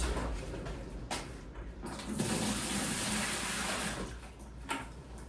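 Water running steadily into a mixing bucket for tanking slurry, a continuous broadband splashing and gushing close by, with a few brief knocks and shifts in flow.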